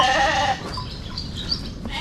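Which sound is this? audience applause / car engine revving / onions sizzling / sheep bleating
sheep bleating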